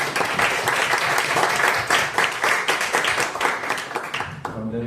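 An audience at a public event on organ donation in Gostivar applauds, a sustained crowd clapping that holds steady for several seconds and fades near the end.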